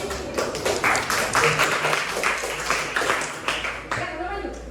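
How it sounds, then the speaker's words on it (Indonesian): A classroom audience applauds after a group presentation, giving steady, close clapping that runs throughout with voices mixed in. "dari presentasi kelompok 3, semuanya beri aplaus"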